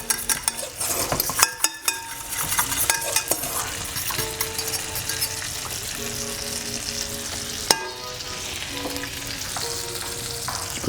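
Brandade being whisked and mounted with olive oil in a professional kitchen, busy rhythmic stirring and metal clinks of utensil against pot over a steady sizzle from nearby pans, with no speech.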